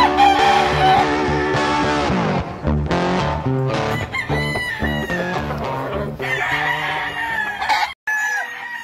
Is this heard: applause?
no